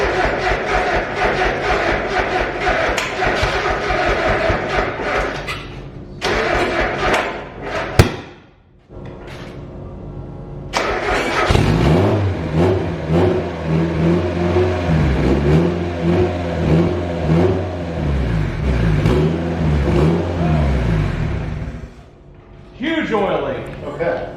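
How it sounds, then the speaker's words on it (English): A turbocharged Mazda Miata engine in a kart, fitted with a $115 eBay turbo, cranks and fires for the first time, then idles roughly and revs loudly in surges, with clunks between runs and a voice over the noise. "After that, we were ready for our first fire up."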